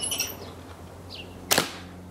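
Slingshot firing a 3/8 inch steel ball with uneven-length bands, a single sharp snap of release midway through, amid faint outdoor birdsong and background hum.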